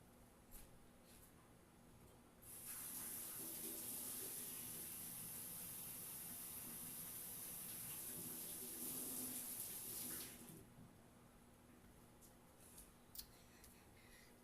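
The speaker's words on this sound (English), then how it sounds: "I'm gonna go wash my hands." Water runs steadily from a tap for about eight seconds while hands are washed in a sink, then shuts off, leaving a quiet room with faint small clicks.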